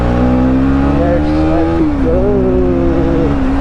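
Motorbike engine held at high revs while riding, a loud continuous drone with a rising and falling pitch and a brief dip midway, heard close up with road and wind roar.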